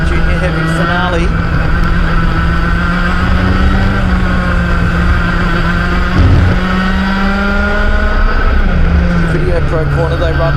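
KA3 Junior Heavy racing karts roar down the back straight at Ipswich, with several two-stroke engines droning loudly and steadily in pitch as they pass, under continuous commentary.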